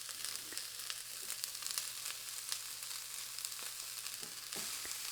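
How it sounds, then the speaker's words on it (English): Shredded cabbage and carrots fry in a pan with cauliflower rice, giving a steady, dense sizzle with occasional sharper crackles and faint stirring taps, close and continuous throughout, with no talking. "go ahead and add your shredded cabbage and carrots"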